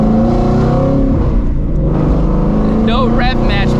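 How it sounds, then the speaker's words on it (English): Straight-piped Shelby GT350 exhaust roaring loud and close through a downshift, a sustained rumbling drone with rising and falling blips near the end, with someone talking over it. "the downshifts are amazing"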